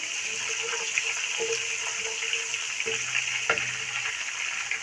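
Finely chopped green chillies fry in oil with a steady, close hiss and a few faint clinks of stirring throughout.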